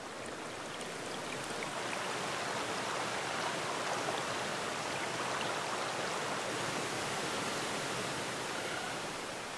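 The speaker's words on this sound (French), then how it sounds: "Dans leur chute, les cascades et les ruisseaux s'entremêlent pour former des rivières qui coulent à travers les plaines." Waterfalls and streams tumble over rocky cliffs in the Waterberg mountains of Africa, giving a constant, dense broadband rush of water with no pauses or distinct events.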